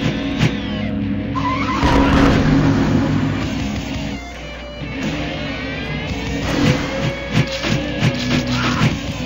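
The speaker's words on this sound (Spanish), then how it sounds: "tengo que tener cuidado con los carros, güey, porque van a estar pasando carros." Cars pass by in the video game Polar Bear Payback, with engines roaring and tires skidding and squealing, the sounds surging and fading over several seconds.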